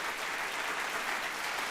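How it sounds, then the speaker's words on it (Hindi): Applause from an audience welcoming a guest at a road safety awareness event, steady and even clapping throughout, at moderate volume with no voices over it. "जोरदार तालियां पंकज जी के लिए"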